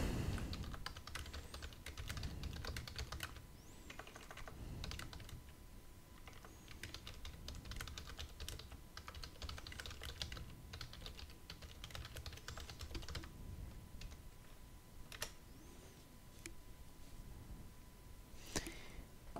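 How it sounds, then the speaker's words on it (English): Steady computer-keyboard typing, a dense run of close, soft key clicks with occasional louder taps, continuing alone without speech over a low room hum. "But I will type it down."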